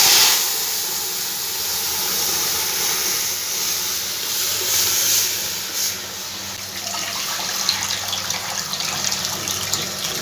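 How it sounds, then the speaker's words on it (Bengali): Thin masoor dal cooked with mango being poured into hot tempering in a pan, producing a loud, sustained steamy hiss and sizzle that crackles and fades slightly toward the end. "এবার আমি এর মধ্যে ডালটা সম্পূর্ণ ঢেলে দেবো"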